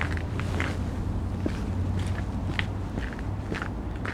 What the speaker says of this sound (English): As you can hear all the salt. My boots are making a lot of noise whenever I step on